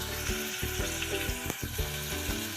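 Chopped onions frying in hot oil in a pan for an egg masala, a close, continuous sizzle and crackle with brief stirring bumps, no voices.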